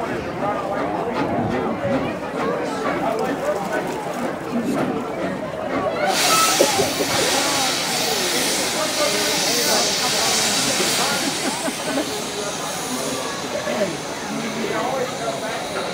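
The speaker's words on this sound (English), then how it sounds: "the train's coming." A steam train on the Frisco Silver Dollar Line approaches, with a continuous loud hiss of steam that swells about midway and holds steady, while people talk and chatter nearby.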